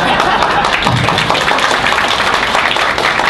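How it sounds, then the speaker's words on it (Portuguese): A debate audience applauding, a dense continuous wash of clapping held at a steady loud level the whole time, with some voices mixed in. "Então já consegui um aplauso"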